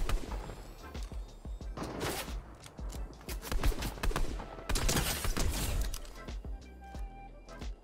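Rapid bursts of gunfire from the video game Fortnite, a No Build Trios match with a heavy sniper, crack repeatedly and densely throughout, loud and close, with overlapping shots and impacts.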